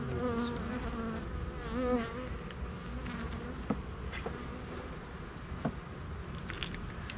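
Honey bees at a Flow Hive fan and buzz in a dense, continuous drone close by, with individual bees whining past now and then and faint knocks against the hive.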